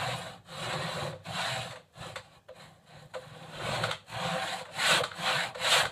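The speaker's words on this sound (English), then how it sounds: "I've got a crosscut saw that is really easy to start accurately" A crosscut hand saw starts a kerf in timber for a timber-frame dining table, making close, rhythmic rasping strokes in an even back-and-forth pattern with brief pauses between pulls.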